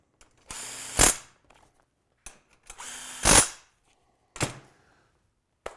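A power tool runs in two short bursts while snugging bolts on a Kmod rail assembly, each whir ending in a louder tightening buzz, with a few clicks and clanks of parts between them.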